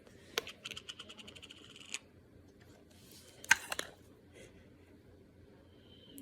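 Scissors cut open a slime package with a few quiet, close snips and clicks, followed by a brief crinkle of packaging in an otherwise quiet room.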